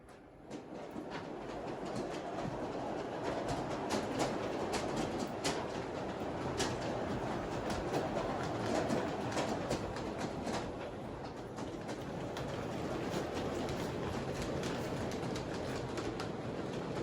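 A G-scale model train with live overhead wire runs steadily along its track, a continuous whirring rumble with light rhythmic clicking, faint and even throughout.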